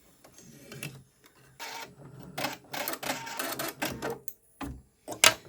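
An embroidery machine stitching a design with ecru thread, heard close up as bursts of rapid mechanical clatter and buzzing separated by short pauses, with a sharp click near the end.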